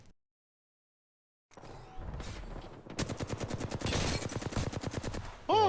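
Rapid bursts of automatic gunfire in Apex Legends, loud and close, rattling in quick repeated shots after a brief silence, with a sharp electronic chirp at the end.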